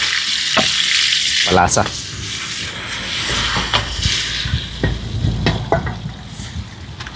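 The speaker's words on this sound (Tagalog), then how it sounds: "Igisa ko na din po itong bagoong para mas mabango." Bagoong shrimp paste sautéing in a pan for a wild cucumber dish, loud hissing sizzle with scraping stirs and utensil clinks, and a short spoken word over it.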